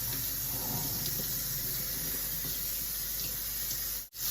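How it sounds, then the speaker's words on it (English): Cool tap water running steadily over a human hair wig in a sink, a close, constant splashing stream that cuts off abruptly near the end. "then I will just rinse it with cool water"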